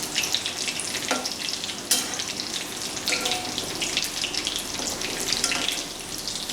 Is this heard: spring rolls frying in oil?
yes